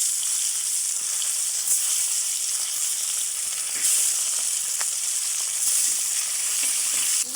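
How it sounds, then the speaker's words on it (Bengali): Rohu and bata fish fry steadily in hot oil, a continuous close sizzle with occasional louder crackles, without any talk. "মাছগুলো ভেজে নিব।"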